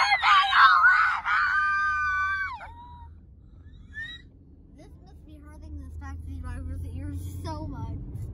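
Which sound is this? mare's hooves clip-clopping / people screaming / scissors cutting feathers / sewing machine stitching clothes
people screaming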